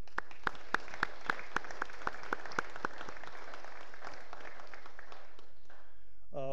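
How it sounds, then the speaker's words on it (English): A small group of residents claps for the food service staff at a residents' council meeting, about a dozen sparse, distinct claps that fade out within three seconds, followed by quiet room tone and a brief faint noise at the end. "Would you join me now with a round of applause for the food service staff"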